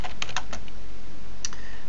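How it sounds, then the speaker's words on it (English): Typing on a computer keyboard while entering a switch configuration command: a few quick, close key presses clustered at the start, a pause, then a couple more taps, crisp and alone over a faint steady hum. "So I'm going to type in now enable."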